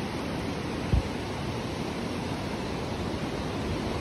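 Flowing water beside a landslide-damaged road in Himachal, a dense, steady rushing hiss that fills the whole clip at close range, with one brief knock near the first second and no talking.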